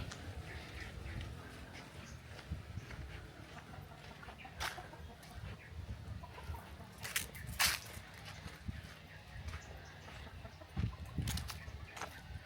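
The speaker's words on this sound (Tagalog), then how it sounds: "Mga manok lang." Chickens cluck intermittently at a moderate distance over a steady outdoor background, with a few sharper calls standing out.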